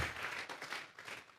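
A church congregation claps together in praise, a short burst of brisk, fairly distant rhythmic applause.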